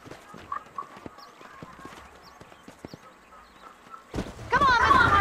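Horse hooves clip-clop on the ground in the Red Dead Redemption video game, a steady walking rhythm under background game ambience, ending with a louder burst of noise.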